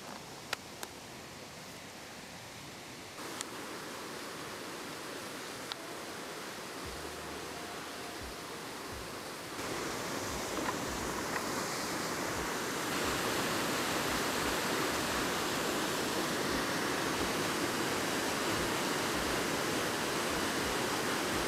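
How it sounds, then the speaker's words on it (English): Kent Falls pours in a continuous broadband roar of falling water with no voices. The rush grows louder partway through as it comes nearer, then holds steady. "This is Kent Falls, the top of the line,"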